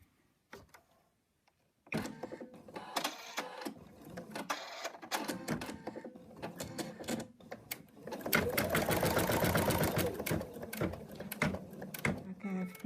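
Embroidery machine stitching the right arm of a mouse figure: dense rapid needle chatter starts after a quiet opening, runs in bursts, then swells louder and steadier near the end, close up.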